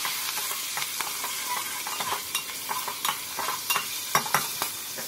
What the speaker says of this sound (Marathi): हिरवी मिरची, कढीपत्ता, मस्त मिक्सिंग करून घेऊया।